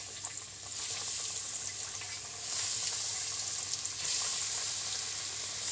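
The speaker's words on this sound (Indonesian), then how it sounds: "Ini minyak dah panas, masuk dalam." Pumpkin balls fry in hot oil with a steady bright sizzle that swells in waves, close and loud, with no talking.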